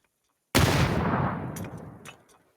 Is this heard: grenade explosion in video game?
yes